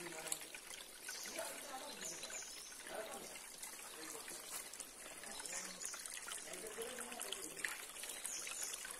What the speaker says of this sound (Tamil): இது மலையிலிருந்து வரதால மூலிகை தண்ணி அதிகமா வரும்.